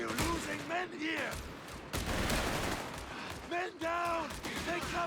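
Sustained rattling gunfire in the strategy game Company of Heroes 3 during a one-on-one battle, running steadily beneath an excited commentator's voice.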